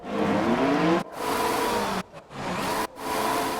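An F1 race car in the F1 2020 game pulls away from the pits after a front wing change, its engine revving up through gears in loud bursts broken by brief shift gaps, with no talk.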